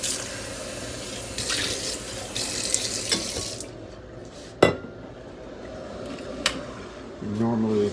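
Hot water poured into a cup to warm it before making tea, a running trickle with clinks of crockery and a sharp knock, with a voice talking during the pour.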